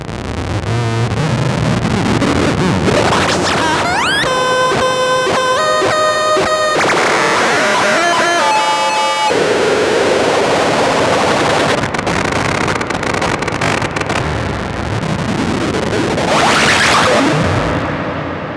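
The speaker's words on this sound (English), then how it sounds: "And those are the three melodic or rather tonal voices in my patch." A Eurorack modular synth patch plays three tonal voices with tempo-synced modulation, loud and dense, moving from noisy sweeping textures to stepped electronic tones and back through a continuous wash of sound.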